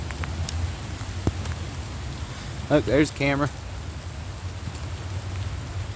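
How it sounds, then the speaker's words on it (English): Light outdoor rain shower in Washington D.C. makes a soft, steady hiss of falling drops with a few sharper ticks, while someone speaks briefly midway. "In the last little bit of this rain shower."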